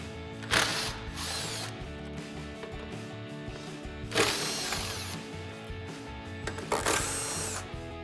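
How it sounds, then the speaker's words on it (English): Impact driver with a T30 Torx bit removing fog light bolts from a 2021-2023 Ford F-150 front bumper, three bursts of rapid hammering ratchet, close, separated by quieter handling noises. "grab our T30 Torx bit on our impact and go ahead and remove these bolts"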